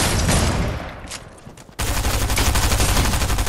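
Rapid bursts of gunfire from a Fortnite match, loud and continuous, with a brief lull before a denser barrage of shots resumes.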